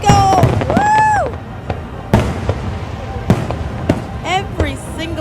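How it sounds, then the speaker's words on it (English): A Fourth of July fireworks show crackles and booms in sharp bursts, whistling rockets rising between the blasts, while people nearby talk and cheer over the display. "As we record these fireworks right now, we are getting it on with this fireworks show 2025"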